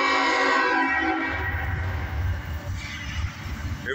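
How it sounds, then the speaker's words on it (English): A CSX southbound double-stack freight train sounds a long, loud horn blast at close range, the chord holding steadily before easing as rumbling wheels and railcar noise take over underneath. "Now you hear the horn blast."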